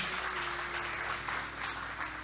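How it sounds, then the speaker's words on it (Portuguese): A church congregation applauds during a sermon, a soft, even wash of clapping at moderate distance, with a steady low sustained tone, like a keyboard, holding underneath. "Você aplauda o Senhor bem forte."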